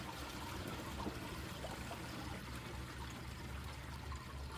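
Water pours nonstop from a drinking-water source in Canada, a steady, dense rushing and splashing that holds an even level throughout with no pauses, and no voices.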